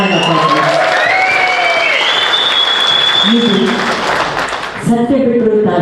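Audience applause at a Kannada film event, loud sustained clapping from a crowd mixed with music tones, fading briefly before a voice begins speaking.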